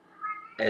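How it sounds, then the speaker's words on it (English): A pet cat meows once, close and loud, a short bright call that follows a moment of quiet talking. "my cat, by the way."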